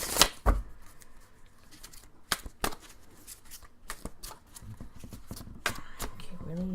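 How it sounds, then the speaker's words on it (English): A deck of oracle cards is shuffled by hand in a series of crisp riffling bursts and soft slaps. Quiet pauses separate the bursts, and a few low thumps fall near the end. "Can't really even see me shuffling the cards, can you?"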